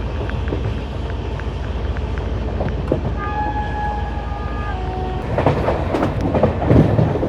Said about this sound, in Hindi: ट्रेन स्लो हो गई एकदम से।